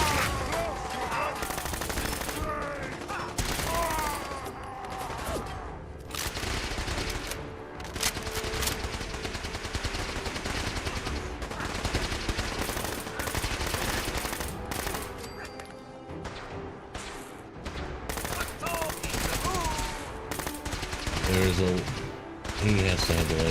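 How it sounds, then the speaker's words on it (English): Laser rifle fire in the video game Fallout 4 crackles in rapid bursts of repeated shots across the whole stretch, with brief pauses and voices at times. "There is a laser rifle shooting at us"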